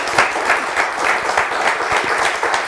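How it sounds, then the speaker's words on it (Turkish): A studio audience on the Turkish game show Kelime Oyunu claps together, a dense, steady, loud burst of applause lasting a few seconds, close and even, with no talking over it. "Bize bir avuntu alkışı."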